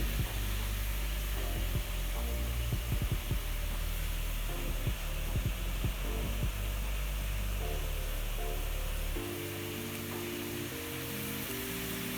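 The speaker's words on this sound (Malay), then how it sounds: "Nampaknya air sedang mula mendidih." A steady hissing rumble of water heating in a pot during a thermodynamics lab experiment, with scattered crackles and small pops as it begins to bubble, continuous and fairly close.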